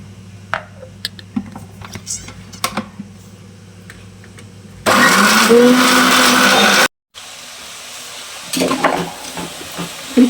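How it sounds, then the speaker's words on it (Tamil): A kitchen mixer grinder whirs loudly for about two seconds while grinding coriander and masala, stops briefly, then runs again more softly after a stretch of small kitchen clatter; no talking. "கொத்தமல்லி தலையும் இதோடு சேர்த்து நம்ம அரைச்சிடலாம்"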